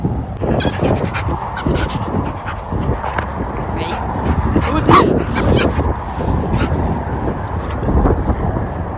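Dogs playing fetch with a ball at an outdoor hangout spot, with barks, yips and whimpers scattered through steady background noise while people talk throughout.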